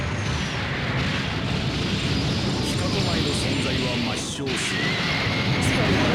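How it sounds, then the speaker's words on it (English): A big explosion from the Super Robot Wars OG Gaiden game, a dense, roaring wall of blast noise that stays loud and steady throughout, with short sharp bursts near the end. "We dodge the explosion."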